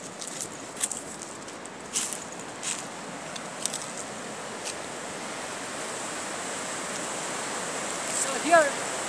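A stream flows over rocks outdoors, giving a steady broadband rushing and gurgling wash with scattered small splashes and clicks, moderately quiet and continuous throughout.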